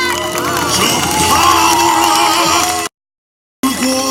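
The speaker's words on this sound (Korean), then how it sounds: "불쇼를 보고 계십니다. 박수 한번 주세요." A crowd watching an outdoor fire show cheers and shouts loudly, a dense roar of voices with higher children's shrieks. It cuts to sudden silence for under a second before the noise resumes.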